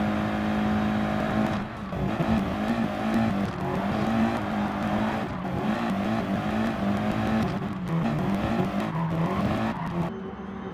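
Race car engines in Gran Turismo at Fuji: a continuous loud, droning engine note holds through the whole stretch, its pitch wavering with gear changes and throttle, with no talk over it.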